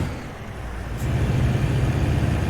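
A Volvo truck with a 450-horsepower Cummins engine and 18-speed transmission drones steadily in American Truck Simulator, a low continuous rumble that grows slightly louder after the first second.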